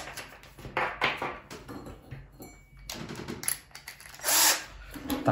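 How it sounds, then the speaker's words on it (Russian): Small nut being tightened onto the metal drive shaft of a Remo Hobby RC car wheel, giving faint close ratcheting and clicking mechanical bursts with brief pauses between them. "Затянул гаечку."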